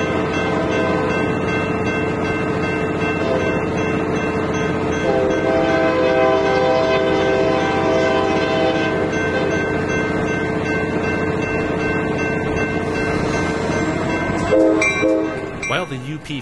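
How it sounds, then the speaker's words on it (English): A Union Pacific freight train rumbles past close by, its horn sounding in sustained blasts over the continuous roll of wheels, with the noise shifting and breaking up near the end. "While the UP freight is going past"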